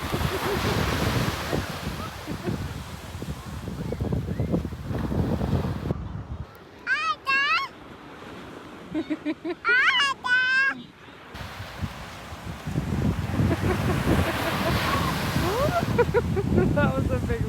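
Ocean waves break and wash on a beach at Corona Del Mar with heavy wind noise, a rushing surge at the start and again near the end, and a quieter stretch in between with brief bird-like calls.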